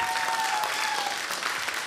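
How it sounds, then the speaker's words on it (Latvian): Dense, steady applause from a studio audience at a televised karaoke championship, sustained and fairly loud throughout without pause. "Vēlreiz vētrēns aplausus."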